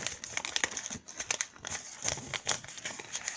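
Sheets of colored origami paper being folded and creased by hand, giving a close, steady stream of soft crinkles and sharp papery crackles with no talking.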